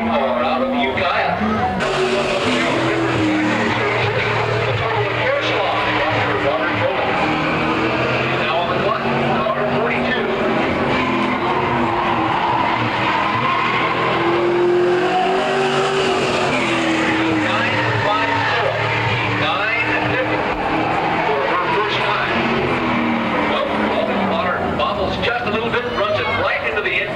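Race cars roar continuously around the dirt oval at Lakeport Speedway, engines loud and rising and falling as they pass and slide through turns, with an announcer talking over the noise.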